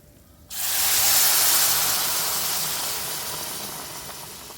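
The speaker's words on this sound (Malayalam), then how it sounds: "അതിലേക്ക് നമ്മൾ കാച്ചി വെച്ചിരിക്കുന്ന പാൽ ഒഴിച്ചു കൊടുക്കാം" Boiled milk is poured into a hot pan of ghee and semolina, bursting into a sudden loud sizzling hiss that slowly fades while still steaming.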